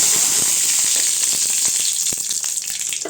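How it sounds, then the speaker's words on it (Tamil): Mustard seeds, cumin and curry leaves sizzling in hot oil in a pan for peerkangai koottu, a loud, close, steady hiss broken by scattered sharp pops and crackles, with no voices. "இப்போ சட்டி சூடானது எண்ணெய் ஊற்றிக்கிட்டேங்க அடுத்து கடுகு போட்டுக்கலாம் ஜீரகம் போட்டுக்கலாங்க அடுத்து கருவேப்பிலை"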